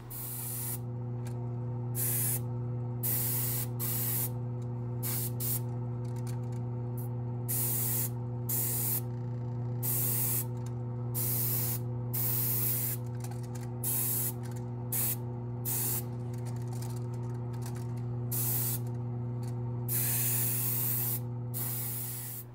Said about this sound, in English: when you're airbrushing, if you're not familiar with it, is to make sure that you have a really fine mist